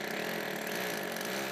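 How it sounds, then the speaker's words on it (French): Hammer drill running continuously, a dense buzzing whir with metallic hammering from the chuck, loud and close, with no talk. "La perceuse à percussion produit typiquement un bruit métallique."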